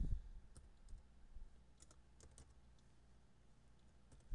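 Light keystrokes on a computer keyboard while entering an Excel formula, a few soft, scattered clicks over a quiet room hum.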